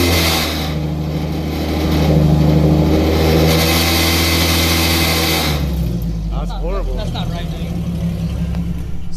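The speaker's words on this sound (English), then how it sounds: "it sounds like some kind of like almost like a rattling whooshing noise" A Lexus RC350 fitted with PPE headers revs loudly, its engine note swelling and then dropping into a rough, rattling idle, close up, with a voice briefly heard toward the end.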